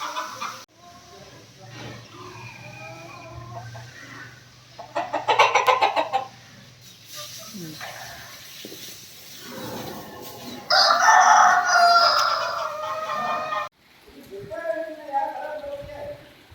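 Chickens cluck and a rooster crows loudly inside a farm coop, with bursts of fowl calls, one long close crow, and a person talking intermittently between them.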